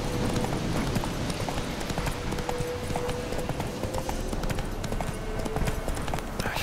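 Horse hooves clip-clop at a steady pace in The Witcher 3 video game, a continuous rhythmic trotting over a busy game soundscape, with no talking.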